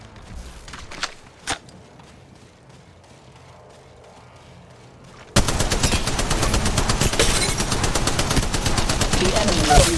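Automatic weapon fire in a video game: a few scattered shots early on, then from about midway a loud, dense, continuous burst of rapid gunfire that runs to the end without letup.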